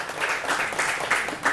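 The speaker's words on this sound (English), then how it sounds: "You can hear applause in the room." Applause from an audience in a conference room, a steady, fairly close patter of many hands clapping throughout.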